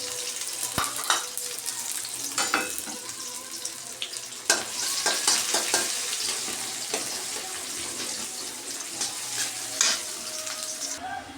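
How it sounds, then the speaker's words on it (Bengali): Onions fry in oil on the stove, a bright continuous sizzle with spatter, punctuated by sharp scrapes and knocks from a stirring utensil, close and steady with no speech. "এখানে চুলায় তেল পেঁয়াজ বসিয়ে দিলাম"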